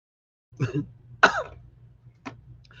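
A few separate coughs, one rough and throaty, then a sharper one and a brief short cough, close by in a quiet room.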